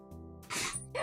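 One short, sharp sneeze bursts out near the end of a quiet second, preceded by a soft intake of breath.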